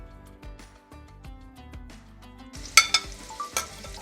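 Onion paste with garlic and ginger sautés in a pan for a sausage pulao, a soft sizzle under steady background tones, with a few sharp utensil clinks and stirring scrapes toward the end.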